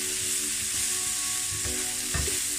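Onion sautéing in oil while being stirred for a Korean beef salad, a steady even sizzle with a low hum and a few soft scraping knocks from the spoon, close and fairly quiet, no voices.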